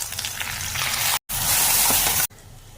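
Tomatoes, spices and white cumin seeds frying in hot oil in a pan, a loud, hissing sizzle broken by two abrupt cuts, the last stretch quieter.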